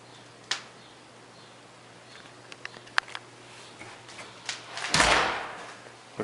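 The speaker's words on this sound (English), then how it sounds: "Looks like the door opens and closes properly." An interior six-panel door in a rental home is opened and closed, giving a few light clicks and taps of the latch and handle before a louder soft thud and swish as it swings shut.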